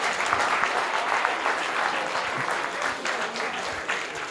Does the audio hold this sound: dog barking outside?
no